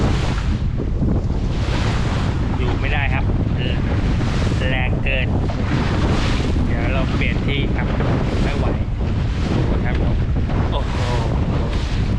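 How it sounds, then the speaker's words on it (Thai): Strong wind buffets a small boat at sea behind an island off Rayong, roaring loudly into the microphone throughout, with waves and faint voices mixed under the gusts. "นี้ลมแรงไปหน่อยออกหมาย นอกเกาะไม่ได้เลยต้องอยู่หลังเกาะอย่างเดียวลมกระพือมากเลยครับ"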